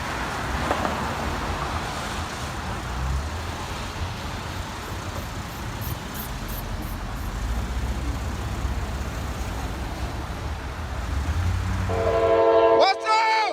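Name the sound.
runaway empty train rolling along the line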